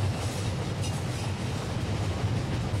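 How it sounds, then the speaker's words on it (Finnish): A train in the video game My Summer Car rumbles past nearby, a steady, loud rolling drone of wagons with faint rail clatter throughout, with no talking. "Ja juna tulee."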